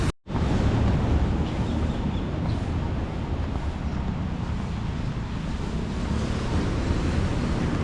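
Surf rolls in along Patong Beach in Phuket, Thailand, a broad continuous wash of waves mixed with gusts of wind across the microphone, steady and fairly loud without breaks.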